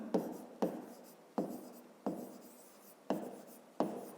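Numbers being handwritten on paper during a fifth-grade maths exercise: six distinct pen strokes scratching in a steady rhythm, close and fairly quiet, with no voices.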